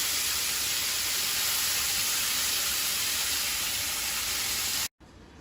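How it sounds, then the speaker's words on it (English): Vegetables and garlic frying in a pan with rice give a loud, dense sizzle that holds steady, then cuts off abruptly near the end. "Now everything is frying up."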